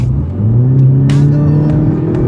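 Tuned Mk6 Volkswagen Golf GTI with an APR Stage One tune accelerating hard, its engine note climbing steadily in pitch as the revs rise quickly, loud and close, with a gear-change-like break midway and no talk.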